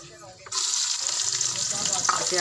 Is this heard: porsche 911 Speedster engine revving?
no